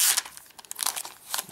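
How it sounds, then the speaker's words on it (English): Plastic wrapping envelope being peeled back off a Logitech Ultrathin keyboard, a close series of crisp crinkling and tearing rustles in short bursts. "We're just going to peel this back."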